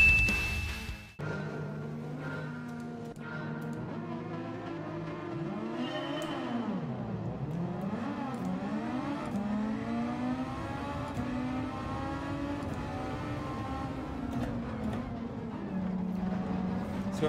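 Super Formula race cars at Watkins Glen in Gran Turismo 7 drone past at high revs, engines rising and falling through gear changes and swooping as cars pass, loud and continuous with no talk.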